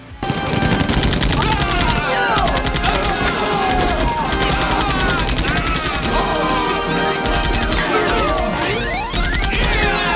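An XMG light machine gun, the Xenon Matter Granulator, firing in Black Ops 6 Zombies: a loud, continuous rapid stream of shots with crunching impacts, mixed with whooping electronic sweeps over nearly ten seconds.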